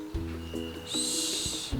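Cartoon owl hooting in a children's animated episode, a soft repeated call over a steady tonal music bed, with a high shimmering tone entering partway through.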